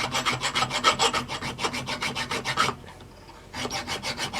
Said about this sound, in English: So where's that bigger rat tail? Maybe I can get through there and just. Doesn't sound like it's filing too much.